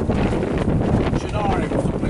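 A sailing yacht moves under way in a strong wind, with heavy wind buffeting the microphone and rushing water around the hull; a voice can be heard faintly underneath.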